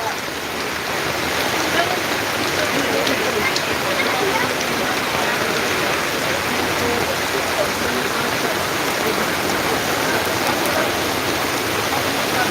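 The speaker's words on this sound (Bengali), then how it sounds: "তারপর দেখেন প্রচুর বৃষ্টি" Downpour over a rural wedding venue, a loud, constant wash of rain hitting surfaces, steady throughout with no pauses.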